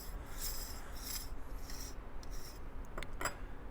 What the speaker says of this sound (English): This is the internal nut that we're going to take off as well.